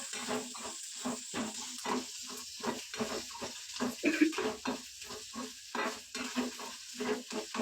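Crackling sizzle of spices frying in a pan for a tempering for bisi bele bath, broken into rhythmic bursts as they are stirred and scraped, close and fairly loud, with no talking.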